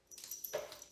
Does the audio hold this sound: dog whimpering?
yes